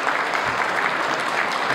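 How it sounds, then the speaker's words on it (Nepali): Audience at an optical retailers' meeting clapping to send off the minister: steady, fairly loud applause filling the room, brief and unbroken. "जोरदार तालीका साथ उहाँलाई बिदाई गरिदिनुका लागि म हार्दिक अनुरोध गर्न चाहन्छु"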